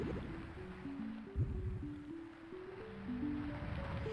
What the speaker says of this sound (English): It sounds like there's like some waves going on.